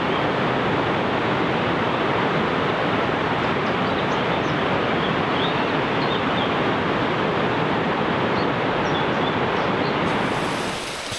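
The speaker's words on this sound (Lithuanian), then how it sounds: "Čia yra didelis krioklys." A large waterfall in the Pyrenees roars as a steady, dense broadband rush, loud and unbroken throughout with no voices, easing slightly at the very end.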